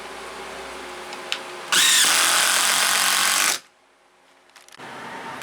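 A power drill drives a 1/4 by 4 inch flag screw through a 2x4 sill plate into a porch rim joist, one loud sustained whir lasting about two seconds, then silence and faint handling.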